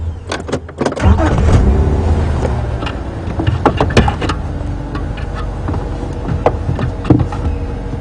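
A safari bush car at Djuma Game Reserve drives off-road into the bush with a loud, steady engine rumble, jolting thumps and rattles throughout, and no voices.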